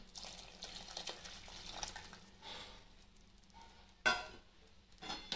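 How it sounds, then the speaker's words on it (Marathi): Water poured into a cooking pot while making Rajasthani kadhi, short splashy pours and trickles in bursts, close and fairly quiet, with a louder splash toward the end. "त्या भांड्यामध्ये थोडे पाणी घालून ते थोडं मिसळून देखील टाकायचं आहे"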